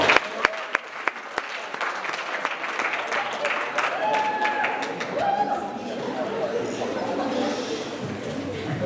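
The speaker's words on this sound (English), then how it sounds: "A round of applause, guys." Rounds of applause ring out from a school assembly audience, steady dense clapping with crowd chatter, sharp claps at the start giving way to a sustained roar.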